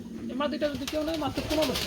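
Pigeons coo in low, repeating warbles, close by, at a pigeon market, with a voice talking over them and a busy background hum.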